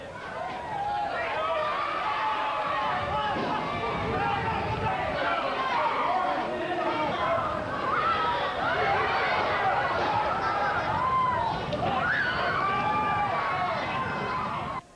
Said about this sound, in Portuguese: A guerra de farinha, ovos e água.